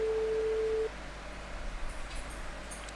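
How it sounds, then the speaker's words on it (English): Telephone ringback tone on an unanswered call, one steady pure tone lasting just under a second before cutting off, then low line hiss with no voice. "It's ringing. It's not picking up."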